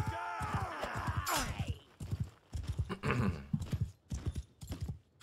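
Horse hooves clip-clop in a rapid galloping rhythm in Mount & Blade II: Bannerlord, close and loud, with whinnies and clashing battle noise mixed in and someone talking over parts of it.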